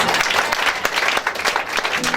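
A church congregation claps together in loud, dense applause that continues throughout, mixed with crowd noise and voices.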